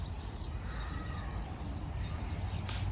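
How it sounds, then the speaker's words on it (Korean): Several crows caw in an open outdoor spot, faint and somewhat distant, with short repeated calls scattered over a low steady background rumble and no talking. "진짜 까마귀 많은데?"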